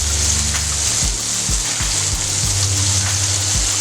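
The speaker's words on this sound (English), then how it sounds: "I'm going to put a bun on and get it nice and toasted for us" A burger bun toasting on a hot griddle gives a steady, loud sizzle, with a few soft knocks and scrapes of handling over it and no talk.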